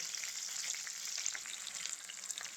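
Steady, close sizzling of chicken pieces frying in hot oil for chilli chicken, a dense crackling hiss that runs continuously without pause.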